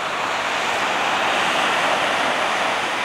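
Ocean surf at Kaanapali beach near a blowhole roars as a steady, loud wash of broadband noise with no distinct breaks, close by and alone without any voices.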